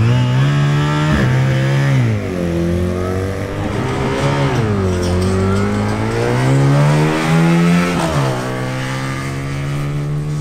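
A Honda VF1000R motorcycle makes a quarter-mile drag racing pass. Its loud, close engine wails and climbs in pitch, drops briefly at each gear change, then rises again, with steady revving throughout.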